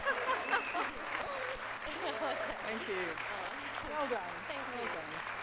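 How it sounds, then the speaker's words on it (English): A conference audience claps steadily throughout a closing session, a dense, continuous wash of applause with faint chuckles mixed in. "So, round of applause."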